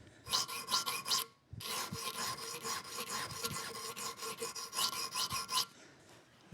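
Emery cloth wrapped around a tool rasps back and forth over metal in a workshop, fast rhythmic scrubbing strokes with a short pause early on and no talk.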